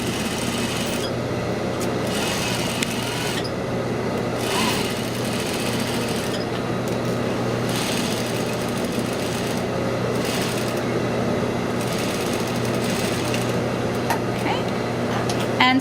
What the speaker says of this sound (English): So 1/2 inch seam allowance, just stitch right around this.